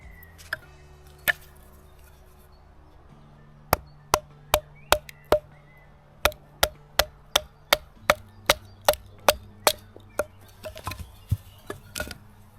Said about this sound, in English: The wood is a bit wet, so it's a little harder, but the knife handles smaller logs without any problems.